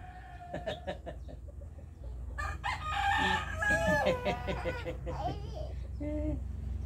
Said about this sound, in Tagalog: Bait yung chicken mo.